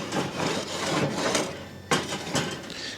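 A wooden Weber scraper rasps across grill grates in a few short, rough strokes, close and fairly quiet, with a sharper scrape near the end.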